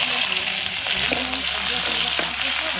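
Chopped onion frying in hot oil in a home kitchen, a loud continuous sizzle close by with occasional stirring scrapes.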